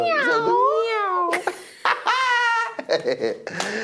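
A human voice imitates a cat, drawing out a long wavering meow, then a couple of shorter meows and giggly vocal sounds, close and loud, during a Nigerian comedy radio show.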